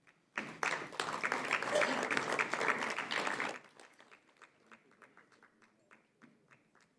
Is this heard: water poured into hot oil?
no